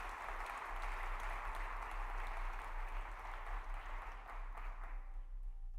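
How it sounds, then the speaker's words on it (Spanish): A church congregation applauding during a sermon, sustained clapping at a moderate distance with a low hum underneath, thinning out slightly toward the end. "Lo aplaudimos a Él"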